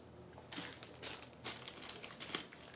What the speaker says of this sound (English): Or put it in another plastic bag, period.